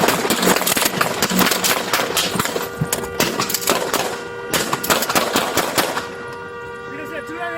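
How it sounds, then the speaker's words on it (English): Repeated gunfire during an active shooter incident at the Grand Sierra Resort in Reno, Nevada: loud sharp bursts of shots in rapid clusters, with a pause and then another volley, against a noisy background. "Shots fired! Shots fired!"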